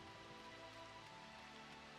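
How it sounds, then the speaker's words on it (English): Steady rain in the video game Final Fantasy XIV, a soft continuous hiss of drops falling on surfaces, quiet and even throughout with low tonal game music underneath. "Ah, there's the rain."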